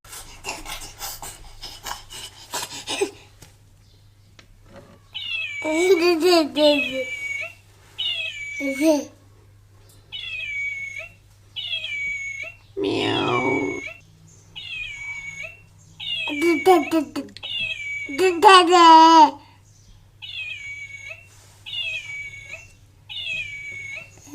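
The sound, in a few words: hacked toy cat meowing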